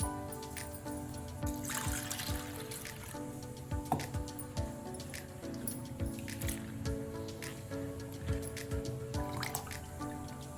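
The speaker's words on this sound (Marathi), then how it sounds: "हे पाणी ओतून द्यायचं आणि दुसऱ्या पाण्याने धुवून घ्यायची" Water sloshes and drips as moong dal grains are swirled and rinsed, with wet squishing and repeated dribbles close by, no speech.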